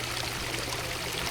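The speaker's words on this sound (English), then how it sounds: "Sound of water." Water from a small garden waterfall at a safari park runs and splashes in a steady, close wash of flowing sound with no voices over it.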